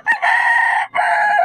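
Yellow-legged hatch gamecock rooster crowing loud and close, one short call followed by two long sustained crows with a brief break between them.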